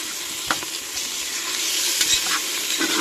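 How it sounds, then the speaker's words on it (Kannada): Ginger garlic paste frying in a large pressure-cooker pot, a loud continuous sizzle close by, broken by scraping stirs and a few sharp spatters. "ಇದು ಶುಂಠಿ ಬೆಳ್ಳುಳ್ಳಿ ಪೇಸ್ಟು"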